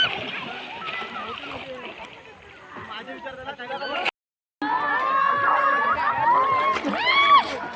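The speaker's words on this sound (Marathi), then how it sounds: "ए, पाणी उडवे." People splash water in a Konkan outdoor setting, with bursts of splashing amid excited voices, shouting and laughter; a brief dropout cuts the sound midway.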